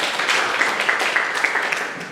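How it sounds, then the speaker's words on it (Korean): An audience at an academic panel discussion claps to welcome a speaker, brief, fairly close, rather muffled applause of a modest crowd that fades toward the end. "여러분 박수로 맞이해 주세요"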